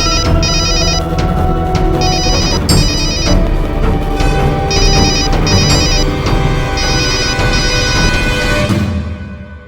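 A telephone rings loudly in repeated double bursts of electronic trilling, over a dense, busy background that fades out at the end.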